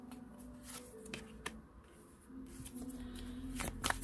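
Tarot deck being shuffled during a love reading: soft, faint papery riffles and card slaps in several short bursts over a quiet room hum, with no talking.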